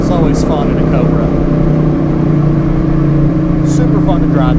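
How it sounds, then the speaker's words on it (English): Loud, close engine drone from a 1993 Ford SVT Cobra accelerating in third gear, a sustained steady roar heard from inside the car while someone talks over it. "Third gear pull is always fun in a Cobra."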